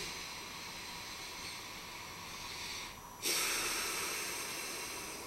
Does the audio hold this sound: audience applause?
no